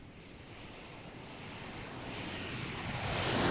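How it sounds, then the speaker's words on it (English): Lockheed Hercules C-130 military transport coming in to land, a steady aircraft engine drone that grows gradually louder over a few seconds as it nears, fairly quiet overall with no voices. "Assets like this Hercules C-130 coming into land."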